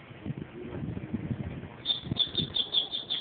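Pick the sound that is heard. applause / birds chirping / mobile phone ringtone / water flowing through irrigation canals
birds chirping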